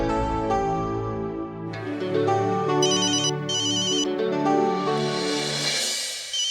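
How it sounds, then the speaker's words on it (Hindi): A mobile phone ringtone plays a bright repeating melody with chiming tones, loud and close, continuing for several seconds with no talk over it. "रोशनी का फोन?"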